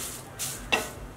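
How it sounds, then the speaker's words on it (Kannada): Curry leaves fry in a pan over a medium flame, giving two short bursts of crackling sizzle with a scrape of stirring, close and fairly clear. "ಚೆನ್ನಾಗಿ ಗರಿ ಗರಿಯಾಗಿ ಫ್ರೈ ಆಗಬೇಕು"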